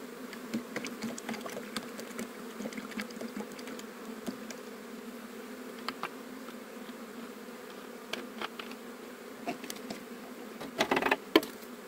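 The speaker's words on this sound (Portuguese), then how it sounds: "Parece que nem tem abelha, mas está um barulhão." Honeybees buzz inside a hive box during transfer to a standard box, a steady low drone with scattered sharper flecks and a louder burst near the end, no talking.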